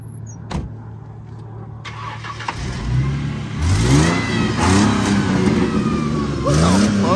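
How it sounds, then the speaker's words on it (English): A BMW E60 550i engine revs repeatedly and loudly, rising and falling in pitch, with a voice briefly audible over it. "you gotta give us a few revs"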